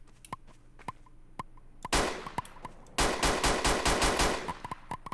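An ultimate cannon fires in Garry's Mod. Sharp single shots crack at an irregular pace, and two sustained rapid bursts of loud, dense fire break out, each lasting about a second. No one speaks.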